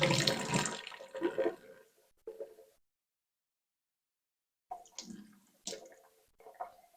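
Excess water is drained off settled plaster waste, splashing and pouring in short bursts, with a long silent gap in the middle before more sloshing and trickling resumes, fairly close.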